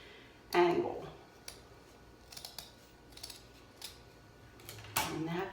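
Scissors slice through burlap at a deep angle, with a few crisp snipping cuts, one near the start and one near the end, and softer rustles of the fabric between them, close and fairly quiet.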